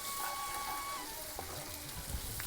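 Cowpea pods frying in a pan, a soft continuous sizzle with faint clinks near the end, fairly quiet and without talk.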